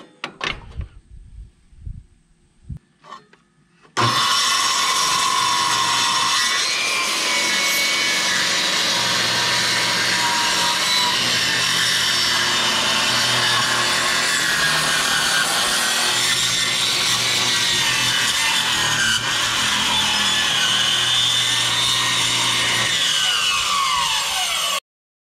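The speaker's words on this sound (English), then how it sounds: "Fortunately, all I got is my metal cutting saw, so we got to wing it with this." A metal-cutting saw runs loud and steady through wooden trailer boards, a continuous harsh grinding cut lasting over twenty seconds after a few brief knocks and handling sounds at the start.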